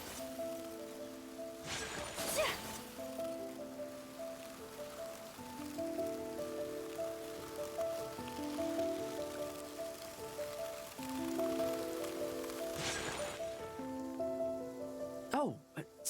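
Steady rain patters in Genshin Impact, a soft continuous hiss of drops on surfaces beneath gentle game music with occasional rising swooshes, with a sharper rustle near the end.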